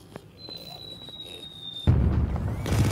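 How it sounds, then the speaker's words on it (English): A car blown up in the From Space video game: a sudden loud explosive boom bursts in partway through and rolls on as a dense rumbling blast, after a quieter stretch with a faint high whine and soft game sounds. "Blow this car up."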